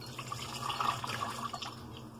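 Brine draining from a can of green jackfruit, a steady trickling and dripping of liquid into a sink, close and fairly quiet, with no talk.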